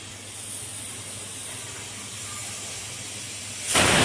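Steam hisses steadily from dal cooking on a stove, a constant close rushing hiss that swells louder in a burst near the end, no talk.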